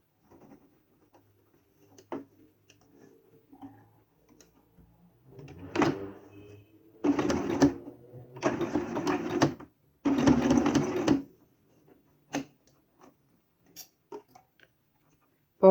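A sewing machine stitches bias binding around a curve in several short bursts of quick mechanical whirring, each a second or so long, with quiet handling clicks and pauses between runs.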